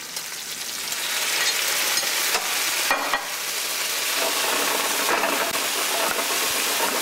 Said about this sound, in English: So we'll add in the gnocchi.